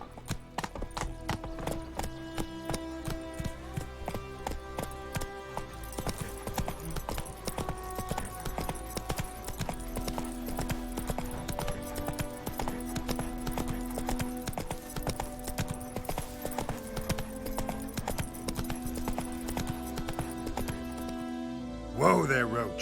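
Roach the horse gallops in The Witcher 3, hooves clip-clopping in a fast, steady rhythm under a continuous music score, with a louder swell near the end and game voices faintly present.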